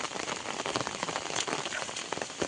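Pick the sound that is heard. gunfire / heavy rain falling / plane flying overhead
heavy rain falling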